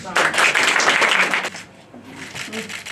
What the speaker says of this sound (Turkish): Onlara kocaman bir alkış.